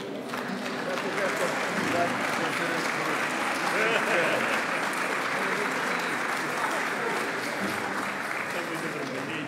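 Sustained audience applause for the Janeiras folk singing group of the Grupo de Danças e Cantares de Perre at an Abelheira Janeiras gathering, dense and steady throughout with faint voices mixed into the crowd.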